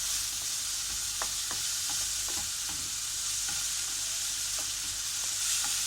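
Vegetables seasoned with colorífico and salt sauté in a pan, giving a steady close sizzle broken by soft scrapes and taps as they are stirred.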